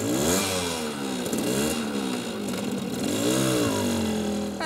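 A 1970s Yamaha FS1-E 50cc single-cylinder motorcycle engine revving, a loud buzzy two-stroke note rising and falling through several throttle blips, close and continuous with no talk.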